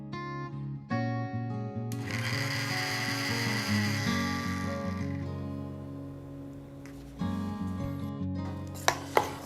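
Mixer grinder pulverizing roasted whole spices for a paneer masala, motor whine starting abruptly, running several seconds with rising rattling grind, stopping, then briefly restarting before a couple of sharp clunks.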